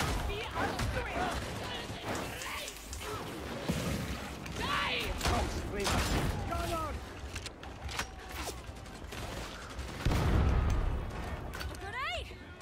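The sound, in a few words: grenade explosion and gunfire in video game Helldivers 2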